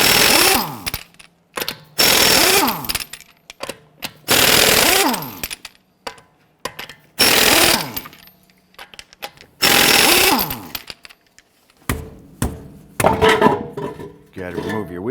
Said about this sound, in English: let's loosen and remove our lug nuts